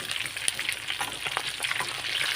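Fried chicken pieces crackle and sizzle steadily in hot oil in a pan, a dense continuous frying hiss with small sharp pops, close and alone with no talking.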